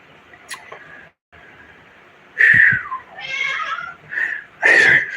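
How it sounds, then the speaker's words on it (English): A cat meows loudly three times, drawn-out and insistent, over a faint background hum with brief quiet gaps between calls. "Yes, that is my cat, Keeper Sutherland Cloud."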